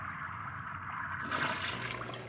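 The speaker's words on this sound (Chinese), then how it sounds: "你那边声音空荡荡，他有冲水声" A toilet flushes in a restroom, a soft rushing of water that rises partway through and stays faint and somewhat distant.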